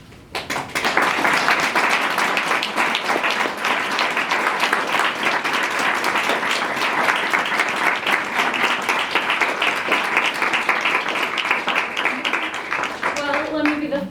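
An audience applauds a panel of panelists and students at a lecture, with dense, sustained clapping that starts abruptly, holds loud and steady for over ten seconds, then thins out as a voice begins speaking near the end.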